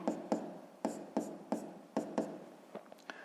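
A pen writes an asterisk on paper during a fifth-grade math exercise, giving a series of short, crisp strokes in an irregular rhythm, close and fairly quiet.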